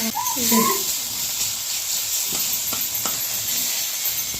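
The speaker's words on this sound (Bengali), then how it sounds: "লঙ্কা গুঁড়ো দিয়ে ঝাল হয়ে যাবে এখন ভালো করে নাড়াচাড়া করে ভাজা ভাজা হয়ে গেলে" Vegetables and potatoes fried with chili powder in a pan give a constant loud sizzle and hiss, with a few sharp scraping knocks of stirring partway through and faint voices at the start.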